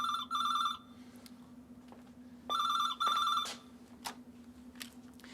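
An old telephone in a television drama rings in two electronic trilling bursts separated by a pause, clear and close over a steady low hum, with a few clicks and knocks afterward.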